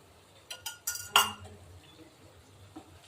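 A spoon mixes turmeric and garam masala into beef curry in a metal pot, making a quick burst of four or five clinks and scrapes in the first second before going quiet, with one faint tap later.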